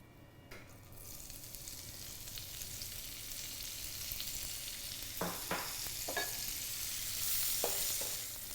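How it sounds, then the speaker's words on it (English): The white part of an onion sizzles in a hot pan, a steady close hiss with several sharp stirring scrapes and clicks of the spoon against the pan. "Now we're going to start cooking the white part of our onion."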